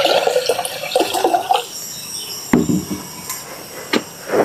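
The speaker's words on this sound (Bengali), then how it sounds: "প্রেসার কুকারে দিয়ে দিব জল" Water is poured into a pressure cooker for boiling lentils, a gurgling splashy stream followed by scattered metallic knocks and drips, close by and without speech.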